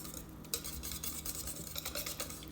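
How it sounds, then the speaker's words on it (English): A utensil stirs chipotle sauce in a bowl, giving faint soft scraping and light clinks that repeat in an irregular rhythm, close but quiet. "You're gonna go ahead and stir this well"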